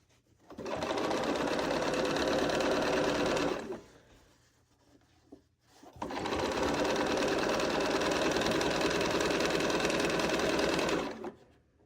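Sewing machine stitching a quilt seam for a posies quilt, running in two steady bursts of about three and five seconds with a short quiet pause between, close and loud with no talking.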